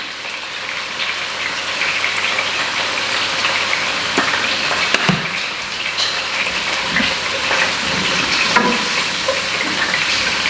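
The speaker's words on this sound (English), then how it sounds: "Here we have the grouper, beautiful fish, nice and sizzling." Grouper fillets sizzle in a hot frying pan, a steady loud hiss of frying fat with occasional crackles and pops, close by and without talk.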